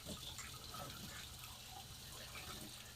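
Running water pours steadily as aquarium canister filter pads are rinsed beneath it, a faint, continuous gushing rush with no pauses.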